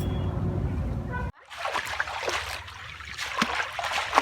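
Water draining off freshly washed neem leaves in a kitchen, a wet splashing and trickling that starts abruptly after a louder noisy stretch and keeps going close by with small spatters.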